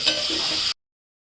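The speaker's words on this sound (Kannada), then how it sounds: "ಪನ್ನೀರ್ನ ಫ್ರೈ ಮಾಡ್ಕೊತಾ ಇದ್ದೀನಿ" Paneer cubes fry in a pan with a steady, close sizzle, following earlier coriander powder, for a short burst that cuts off abruptly.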